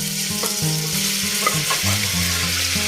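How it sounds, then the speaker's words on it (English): Oil sizzles in a hot pot ready for a stir fry of oyster mushrooms, a dense close frying hiss with light clinks, overlaid by a low steady hum with stepping tonal shifts. "so now just put the oil in here. The pot is already hot"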